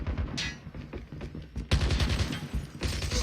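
Gunfire in Call of Duty Mobile played on PC: dense bursts of rapid shots, loud and close, with a brief quieter gap before a heavier volley resumes and runs to the end.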